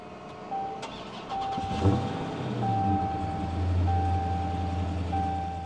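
A 2025 Dodge RAM truck engine cranks and catches about two seconds in, settling into a steady low idle, while a repeating electronic chime beeps in the cabin throughout.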